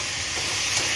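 Snake gourd frying in a pan on a home kitchen stove, a close, loud and continuous sizzle with steady hiss throughout, no talking.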